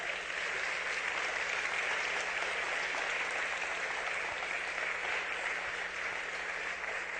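A congregation at a church service claps loudly, a continuous even roar of many hands sustained for several seconds with no talk over it.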